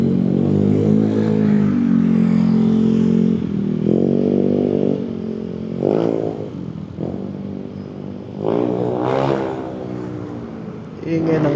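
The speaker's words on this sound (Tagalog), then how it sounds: "Ingay ng motor noon." A motorcycle goes by on a street, its loud engine drone rising and falling in pitch as it revs and shifts, close and dominant over the whole stretch.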